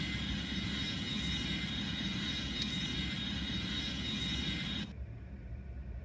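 An A310 airliner landing in the mobile game Airline Commander, a steady loud jet engine roar that drops sharply in level near the end, with no talking.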